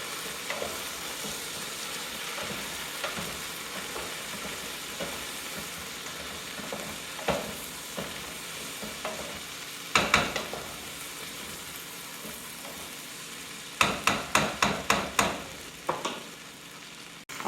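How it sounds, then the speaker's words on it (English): Vegetables for a leftover turkey stew stirred in a hot pan, with a steady close sizzle and frying crackle under scraping spoon strokes, sharper clattering bursts near the middle and toward the end. "we want to give a good stir"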